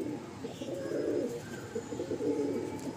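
Soft, low cooing from a male Mundi Sada pigeon, a continuous burbling murmur heard close but quietly, with faint background noise and no speech.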